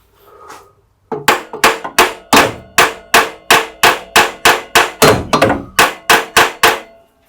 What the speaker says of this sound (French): il faudrait juste lui mettre un petit coup de marteau sur sa gueule